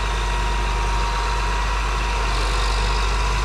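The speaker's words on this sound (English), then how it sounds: "Here is a 2007 Case IH AFX8010 combine." The engine of a 2007 Case IH AFX8010 combine runs at a steady idle, a loud continuous low rumble with a constant mechanical hum and no change in pitch over a few seconds, with no voices.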